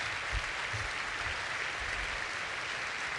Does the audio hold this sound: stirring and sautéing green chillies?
no